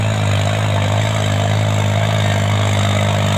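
A tractor engine idles on a village road, a steady, loud, close low rumble that holds an even drone throughout without revving.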